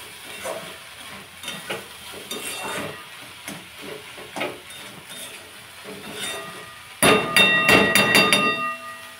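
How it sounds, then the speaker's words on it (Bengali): Potatoes with small shrimp fry in a pan, with a soft sizzle under scattered scraping stirs, then a burst of loud clattering and knocking near the end. "এই যে কুচু চিংড়ি দিয়ে আলু ভাজা, আমার মেয়ে খেতে খুব ভালোবাসে"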